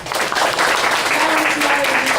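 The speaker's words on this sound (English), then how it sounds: "we just want to give you a round of applause" A round of applause from the audience at a Q&A session on spiritual healing, dense steady clapping filling the room throughout, with a faint voice under it.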